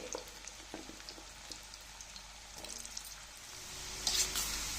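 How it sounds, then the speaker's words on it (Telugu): Small amla gooseberries frying in hot oil, a steady crackling sizzle with faint stirring clicks, growing a little louder and brighter near the end, no voices. "ఇదిగమ్మా నూనె కాగింది ఇప్పుడు ఈ ఉసిరికాయల్ని దోరగా వేయించుకుందాం"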